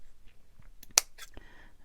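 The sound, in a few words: scissors cutting lace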